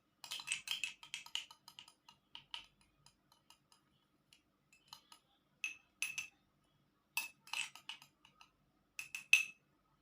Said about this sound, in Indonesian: setelah saya mengaduk jeruk tersebut dengan campuran betadin